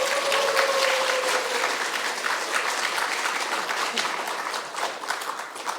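Sustained applause from a church congregation at a Korean Sunday worship service, steady and fairly loud throughout, easing slightly toward the end, with a brief tonal hum near the start.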